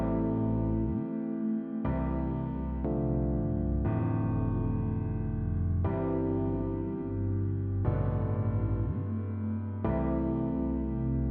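Layered piano melody over a deep, sustained bass in a self-produced track, the low end thick and somewhat muddy; repeating two-second phrases with effects and echo, steady and loud, no voices.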